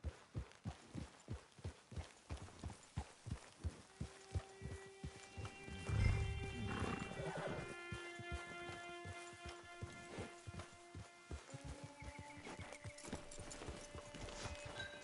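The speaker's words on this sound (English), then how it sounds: "Get your horse." Horse in the video game Red Dead Online, hooves clip-clopping in a steady walking rhythm, then a loud neigh and snorting, with game music tones layered underneath.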